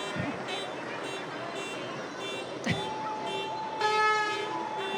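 Vehicle horns honk briefly amid a small-town parade, Big Lake's Spudfest 2022, with a truck passing; tonal honks stand out over crowd noise and background chatter.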